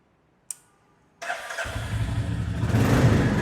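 A Royal Enfield Classic 350 motorcycle starts: a sharp click, a brief pause, then the engine catches and settles into a low, steady thumping idle that grows louder and fuller, close and alone.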